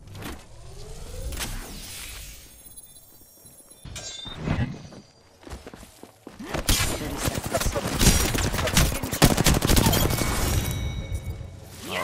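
Gunfire in an Apex Legends-style shooter with R-301 rifles, bursts of shots and impacts arriving in clusters, loud and close, with heavier sustained firing in the second half over game noise.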